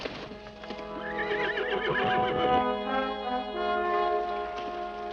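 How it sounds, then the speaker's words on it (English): A horse neighs in a long, wavering whinny close by, over steady clip-clop of hooves and a low sustained musical tone, in an old Western action film. "Horse."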